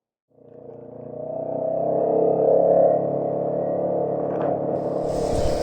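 A Can-Am Ryker three-wheel motorcycle engine drones steadily and builds from near silence into a sustained rumble while riding, with no talking.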